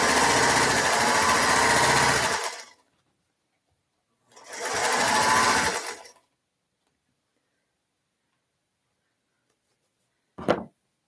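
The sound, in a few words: sewing machine stitching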